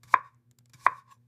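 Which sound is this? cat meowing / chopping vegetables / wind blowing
chopping vegetables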